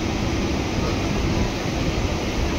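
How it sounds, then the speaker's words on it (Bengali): Steady, loud rumble of a train pulling into Sealdah station, heard from inside a carriage by the open door during a dusty storm, with continuous low roar and wind noise throughout and no talking. "আমাদের ট্রেনটা শিয়ালদায় ঢুকছে এবার"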